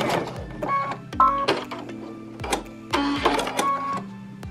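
A new computerized sewing machine stitching appliqué and trimming its top and bottom threads, heard in short bursts of mechanical whirring and clicking, with brief pauses and beeps between runs.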